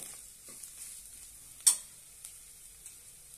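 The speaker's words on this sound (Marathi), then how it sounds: "आवडीनुसार लाल तिखट, छानपैकी परतून घेऊया" Red chili powder with a little turmeric sautéing in a pan, a soft low sizzle with a single sharp stirring scrape partway through.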